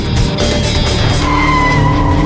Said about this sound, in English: A second car spins out